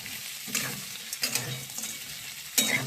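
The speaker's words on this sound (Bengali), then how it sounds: "কড়াইয়ে 4 প্যাকেট ম্যাগি দিয়ে ভালো করে নাড়াচাড়া করে নিচ্ছি" Four packets of Maggi noodles with a fried egg are stirred in a wok, the sizzle broken by three bursts of spatula scraping and clinking close up.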